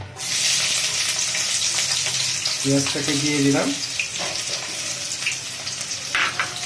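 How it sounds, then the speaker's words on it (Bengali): Loud, steady sizzle of onions frying in hot oil, with brief clatters and stirring noises and a short tonal ring midway. "আমি প্রথম তেল দিয়ে দিলাম, তেল দেওয়ার পর আমি পেঁয়াজটাকে দিয়ে দিলাম"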